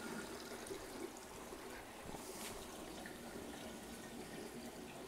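Water rushes steadily through a 20-gallon aquarium tank and sump, driven by a roller filter pump rated at 3000 gallons per hour, giving a continuous, even hiss of flowing water with no pauses.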